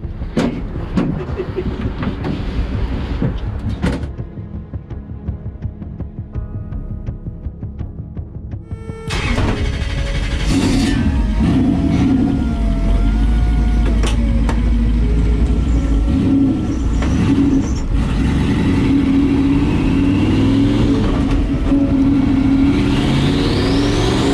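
A car on a race track, either a Toyota Soarer UZZ30 or a Lancer EVO IX, idles with a rough burble, then roars loudly as it accelerates hard and holds a sustained, rising engine note through gear changes.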